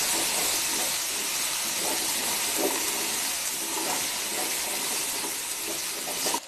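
Potato pieces frying in oil with a pinch of turmeric make a soft, continuous hiss and sizzle. The sound is faint and even for several seconds.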